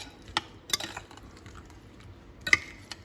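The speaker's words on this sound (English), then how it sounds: "Now we're going to mix this up" A spoon stirring a mixture with vanilla in a bowl, a few sparse clinks and scrapes against the bowl, fairly close and quiet, with no talk.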